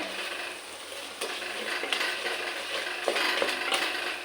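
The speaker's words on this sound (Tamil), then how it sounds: "இது நல்லா நம்ம வதக்கிடலாம்" Garlic paste being sautéed in a clay pot for vegetable kuska, giving a steady broadband sizzle with occasional scraping clicks from stirring, close and continuous.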